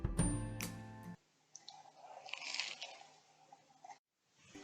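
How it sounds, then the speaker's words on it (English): Crisp crunching bites into a toasted grilled cheese sandwich, a few close, dry crackles and chewing sounds spread over several seconds with brief pauses, no talking. "This sandwich is perfect even down to the crunch."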